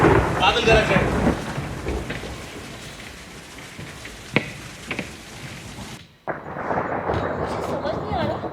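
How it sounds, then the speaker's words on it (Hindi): Thunder rolls through a rainstorm as a long, deep rumble, with a sharp nearby crack partway through and another heavy burst of rumbling near the end, over steady rain. "बादल गरज रहे हैं।"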